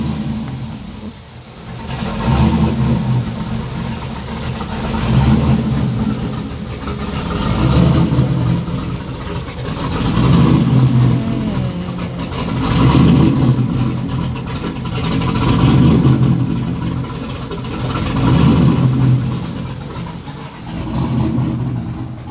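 A turbo LS-swapped Mustang engine running, a loud, steady rumble that swells and eases in regular waves every few seconds, like repeated light revving over a rough idle, with no talking.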